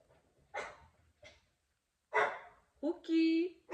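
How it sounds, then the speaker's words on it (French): A pet dog in a home gives a few short, sharp barks spaced out over a few seconds, followed by a higher whining yelp, close to the microphone in an otherwise quiet room. "Vous entendez peut-être mon chien."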